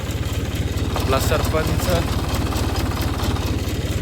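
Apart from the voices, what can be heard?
tractor engine running on a farm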